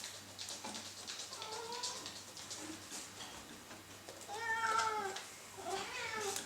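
A cat meows indoors three or four times in drawn-out rising and falling calls, over a steady low hum and faint ticking while a model airplane is being assembled; no one speaks.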